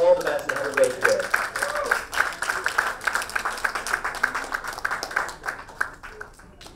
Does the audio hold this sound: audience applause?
yes